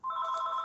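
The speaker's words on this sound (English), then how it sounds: "Since that phone is being a nuisance" A telephone rings during a memorial seminar, a loud, steady electronic tone that holds without a break for the whole short stretch.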